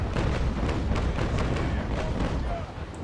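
Ship cannons firing in the Naval Action video game, a rapid ragged run of booming shots that overlap into a loud continuous rumble, with a voice speaking over it.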